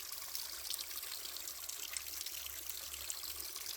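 Low creek in a drought at Allegany State Park barely trickling, a faint, steady hiss of thin water flow with no voices.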